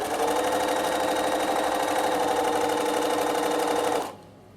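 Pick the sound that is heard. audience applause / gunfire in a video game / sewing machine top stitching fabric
sewing machine top stitching fabric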